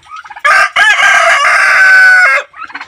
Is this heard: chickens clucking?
yes